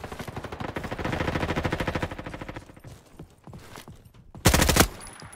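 Rapid automatic gunfire from a Roblox video game rattles in a fast, even burst of repeated shots for about two seconds, followed by scattered single shots and one loud, harsh blast near the end.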